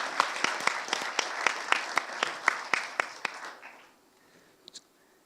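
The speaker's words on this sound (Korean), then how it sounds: "여러분 큰 박수를 다시 한번 부탁드립니다" Audience applause for honorary director Chung Mong-joon at a research institute's seventh anniversary event: a steady run of sharp, evenly spaced claps with a wash of crowd clapping behind them, quite faint, fading out after about four seconds.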